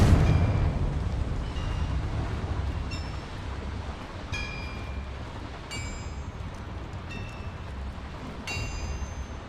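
A Confringo blasting spell explodes in Hogwarts Legacy, a heavy roaring burst that fades into a long rumbling tail, with bright chiming pings scattered over it.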